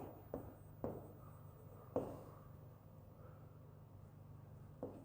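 A stylus writing on an interactive board in a teaching demo: a few sharp taps as the pen lands, at irregular intervals, with faint scratchy strokes between them against a low steady hum, and no talking.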